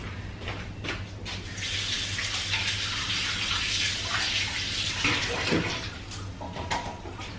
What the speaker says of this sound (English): I better wash my hands.